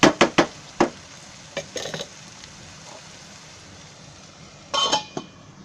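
Masala spice paste sizzles in oil in a pan as the lid comes off and the mix is stirred, with sharp clinks of a spoon against the pan over a steady soft crackle that swells again near the end.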